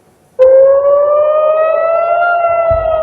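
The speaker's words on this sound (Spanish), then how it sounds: "Las sirenas que anunciaban el ataque sonaban de norte a sur." An air raid warning siren in Israel starts abruptly and holds a loud, steady wailing tone that rises slightly in pitch, close and sustained with no talk over it.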